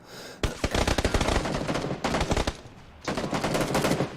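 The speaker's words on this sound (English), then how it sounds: "Some bullets coming past us." Rapid video game gunfire crackles in dense bursts, with bullets whizzing close past; two long volleys are split by a brief gap, loud and near with no talking over them.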